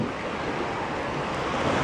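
Surf rolling onto a beach with wind blowing across the microphone, a steady continuous wash of waves and wind noise with no talking.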